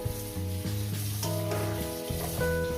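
Spice paste sizzles steadily in a pan as it is sautéed for a katla fish and poppy seed curry, a continuous frying hiss under music with tonal notes throughout.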